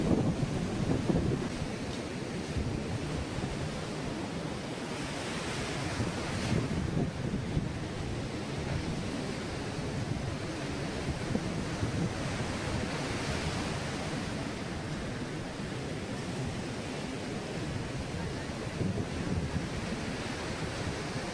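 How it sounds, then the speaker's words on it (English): Big ocean waves rolling onto Chaweng Beach, Koh Samui, on a day of strong tide: a continuous wash of surf noise at moderate level, steady throughout with slight swells, mixed with wind on the microphone. "It's looking like pretty big waves because there's a strong tide today"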